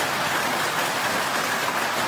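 Heavy rain pours during a destructive summer storm sweeping southeast Queensland after a heatwave, a loud, dense, unbroken roar close by with no voices.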